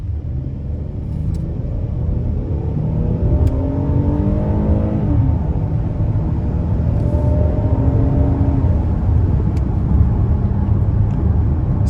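A 2025 Hyundai Palisade Calligraphy AWD accelerating hard, its engine rumbling steadily from inside the cabin as the revs climb through long gears, with sustained road and wind noise and no talking.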